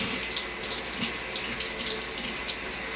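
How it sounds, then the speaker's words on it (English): Water poured out of a JOBO film developing drum after a 500 ml wash, a steady close splashing gush running continuously for the whole stretch with no talk. "I'm going to go ahead and dump that 500 milliliters of water."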